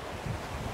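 Strong wind gusting across the seafront promenade of Taranto, a steady broadband roar with low rumbling buffeting against the microphone and faint surf-like wash, no voices present.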